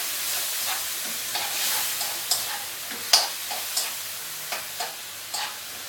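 Soy sauce and honey are stirred together in a hot pan, with a soft steady sizzle and a spoon scraping and clicking against the pan in irregular, fairly close strokes.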